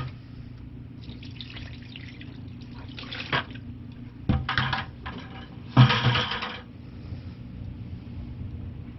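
Liquid is poured onto old blue jeans in a full worm compost bin, giving a few short splashing bursts over a low steady background hum.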